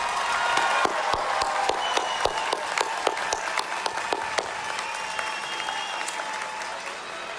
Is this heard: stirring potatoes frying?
no